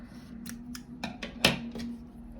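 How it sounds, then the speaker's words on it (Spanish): Scissors snip off leftover yarn from a crochet basketball keychain, about six quick, close, crisp cuts spread over a couple of seconds above a faint steady hum, with no talking. "vamos a hundir el nudo y cortamos lo restante"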